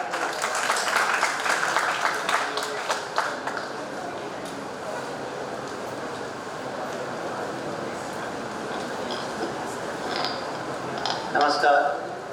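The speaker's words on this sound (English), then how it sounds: "Let's have a huge round of applause to welcome sir." A college IT fest crowd in Dwarka applauds to welcome the guest of honor, a busy wash of clapping that swells early, eases off, then picks up again near the end, with voices mixed in.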